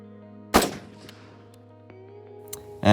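A single loud, sharp rifle shot cracks close by during zeroing of a Pulsar Thermion Duo DXP50 thermal scope, followed by a brief fading tail, faint clicks and a second sharp burst at the very end over a steady low hum.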